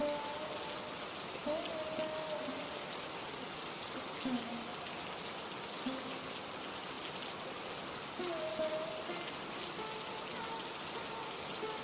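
Steady rain hisses evenly throughout a cartoon moral story scene of a poor man's home receiving a guest in the rain, with a few faint tonal sounds drifting beneath the continuous downpour.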